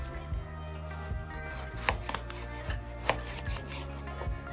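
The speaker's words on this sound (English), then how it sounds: "grab 3 eggplants and cut them lengthwise into thick," A knife slices eggplants lengthwise into thick strips on a cutting board, giving several spaced thuds under steady background music, with no voices.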